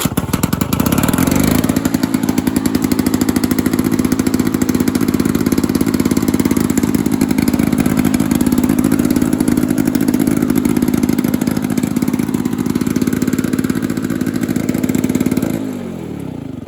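Lawn-Boy lawn mower engine starting from cold, then running loud and steady for about fifteen seconds with a raspy, buzzing two-stroke note before it cuts off abruptly near the end.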